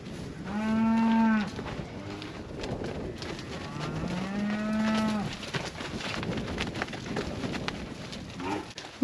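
Cattle in a pen let out two long, low moos a few seconds apart, fairly close, over faint background noise and scattered clatter.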